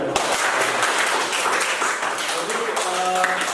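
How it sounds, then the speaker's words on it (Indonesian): A classroom of students applauds after a group presentation, a dense, steady patter of clapping that fills the room, with a few voices talking over it. "Kita tepuk tangan dulu ya."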